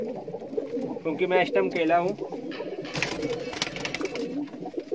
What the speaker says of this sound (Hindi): ये देखो कबूतर